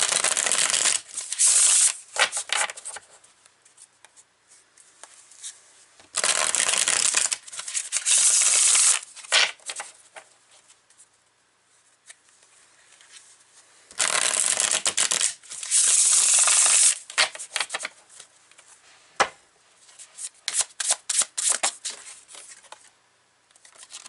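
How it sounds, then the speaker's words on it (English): Tarot cards being shuffled and drawn, several loud bursts of riffling and sliding card sounds separated by quiet pauses, close and alone. "Let's pull a couple cards from here."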